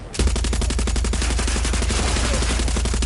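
Rapid automatic gunfire from Far Cry 6, a dense steady burst of repeated shots lasting several seconds, loud and close with no talking.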